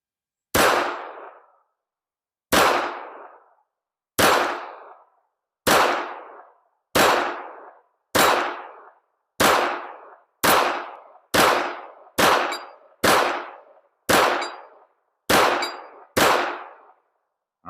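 A Walther WMP .22 WMR pistol fires thirteen sharp, loud shots one after another, spaced roughly a second apart at first and then coming a little faster, each shot ringing briefly before silence.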